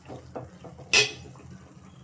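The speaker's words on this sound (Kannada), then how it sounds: "ನೋಡಿ ಇವಾಗ ನಾನು ರೈಸ್ ಮಿಕ್ಸ್ ಮಾಡ್ತಾಯಿದ್ದೀನಿ" A utensil scrapes and stirs cooked rice through tamarind gojju sauce in a pan while making puliyogare, soft scuffs building to one brief, bright metallic clink partway through, with no talking.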